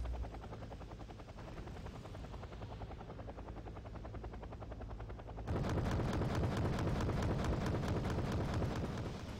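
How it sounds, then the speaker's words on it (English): A helicopter in the war game Wargame Red Dragon gives a steady rotor whir, then a sharp rhythmic chopping thump rises louder and closer partway through, with faint gunfire mixed in. "if somebody used this well, this can be a very dangerous chopper"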